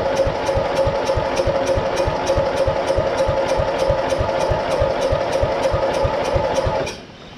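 A small tractor engine runs briefly on the fuel left in its carburetor, giving a steady, rapid chugging idle with a regular beat. It cuts out near the end.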